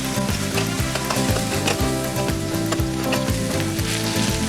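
Lobster paella ingredients sizzle loudly and steadily in a pan while they are stirred, with close, continuous frying and no talking.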